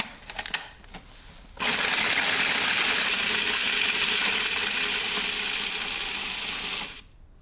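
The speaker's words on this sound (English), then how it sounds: "If you have a food processor, it's a really easy way to do this" Food processor grating Parmesan cheese, a steady loud whirring grind lasting about five seconds after a brief clatter, then cutting off abruptly.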